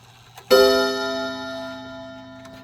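A single strike on the chime rods of a 1990 Waltham wall clock rings out sharply, then its metallic tone sustains and slowly fades, close up in a quiet room.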